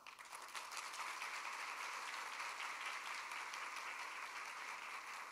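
Sustained audience applause at a ceremony honouring parents, an even, continuous wash of many hands clapping, heard at a distance and fairly quiet, with no break for its whole length.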